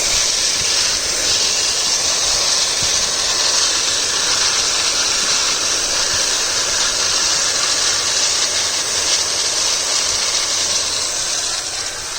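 A Dyson V7 Trigger Pro handheld vacuum cleaner runs inside a car, giving off a loud, steady motor whine and airy hiss that holds unbroken for the whole stretch.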